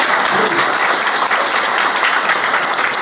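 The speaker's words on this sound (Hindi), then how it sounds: "समझ में आए तो ताली" A hall audience bursts into sustained, dense applause at a business seminar, the clapping steady and loud for the whole stretch with no voices breaking through.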